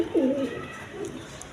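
A pigeon gives one close, low, throaty coo at the start, with a softer second coo trailing after in a quiet room among high-quality breeding pigeons kept for sale.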